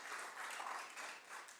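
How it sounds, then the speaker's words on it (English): Council meeting audience applauding, a steady wash of many hands clapping at once, fairly quiet and held at an even level without a break. "Please refrain from clapping."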